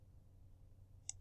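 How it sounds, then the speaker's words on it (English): A single sharp computer mouse right-click, brief and faint over a low background hum, arriving near the end of a quiet moment. "Right click on this."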